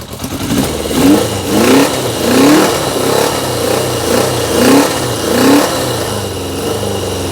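A 1980 Yamaha XJ650 motorcycle engine, newly restarted on little fuel, blipped through several quick rising revs and then settling into a steady, fairly loud idle, close by with no talking.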